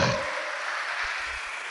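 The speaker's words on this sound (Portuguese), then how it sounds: "Aplauda o Senhor" Congregation applauding during a church service, a steady dense wash of clapping sustained throughout with no clear speech over it.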